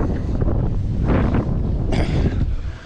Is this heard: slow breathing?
no